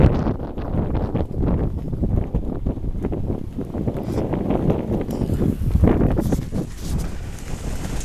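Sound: strong gusty wind blowing over the microphone

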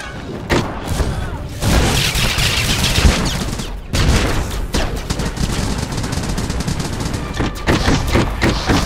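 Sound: gunfire in a Star Wars video game

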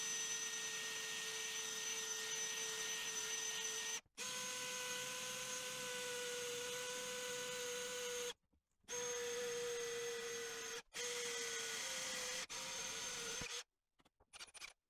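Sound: drill boring through wall tile

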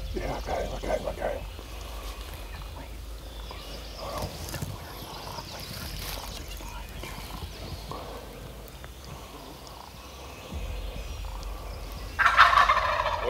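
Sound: wild turkey gobbling

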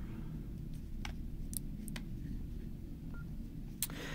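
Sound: opening the Nokia N93i phone

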